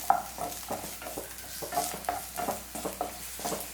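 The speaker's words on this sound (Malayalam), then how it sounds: "ഇനി ഇതൊന്ന് വഴറ്റിയെടുക്കാം." Garlic and ginger sautéing in oil for egg curry, a soft steady sizzle under repeated rhythmic stirring strokes in the pan, close but fairly quiet, with no voices.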